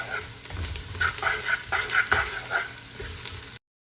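Onion, garlic and ginger frying in a pan for chicken biryani, a steady sizzle with stirring noises and some clatter, close and fairly loud, ending abruptly.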